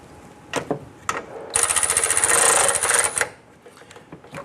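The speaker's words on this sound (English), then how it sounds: "With all 6 bolts installed, let's go ahead and snug these down." Bolts on the harmonic balancer of a 1997-2006 Jeep Wrangler being snugged down with a tool: two short sharp clicks, then a close, loud rasping whir lasting under two seconds, followed by a few faint taps.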